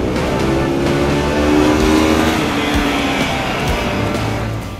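A Bajaj Pulsar AS 200 motorcycle engine revs steadily and loudly up close, its pitch rising and holding with a rough, aggressive drone.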